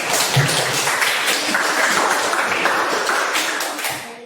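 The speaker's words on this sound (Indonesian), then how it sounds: "kita beri tepuk tangan dulu untuk kelompok 2" Classmates applaud a student group after its presentation, a thick, continuous wash of many hands clapping close by that holds steady and tapers slightly toward the end.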